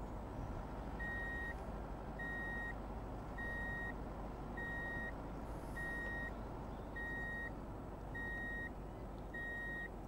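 A van's reversing alarm in a driving video game beeps eight times at a steady, even pace over a loud, constant engine rumble, with no talking.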